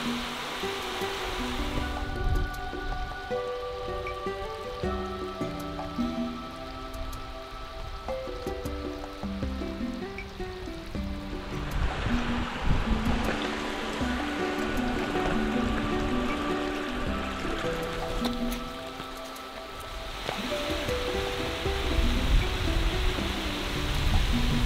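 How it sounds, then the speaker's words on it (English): Steady rushing water fills the whole stretch, a broad continuous roar like falling water, with some faint tonal background sounds threaded through, from a small flow over Seven Falls near Tucson, Arizona. "there's still a little bit of water flowing over those Seven Falls"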